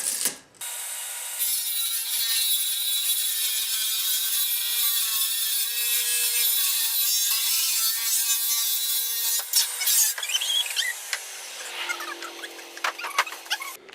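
Sawing notches into wooden workbench beams: steady, close rasping saw strokes run for about nine seconds, then give way to quieter scattered knocks and scrapes of wood.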